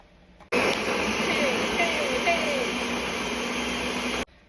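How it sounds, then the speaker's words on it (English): A blender runs a steady, loud motorized whir on high speed for about four seconds, blending chicken bouillon and water, starting and stopping abruptly. "And let's blend"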